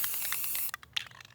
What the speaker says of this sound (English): Go ahead and hit it with some spray paint